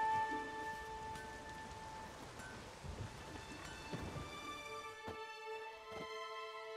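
Steady rain falls in the video game The Witcher 3: Wild Hunt, a soft continuous patter with low rumbles under a sustained musical drone, no voices.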